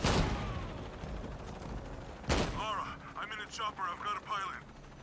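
An explosion in the video game Shadow of the Tomb Raider bursts loudly at the start, with a second sharp blast midway, followed by echoing rumble and crackling debris, while a voice speaks over the later part.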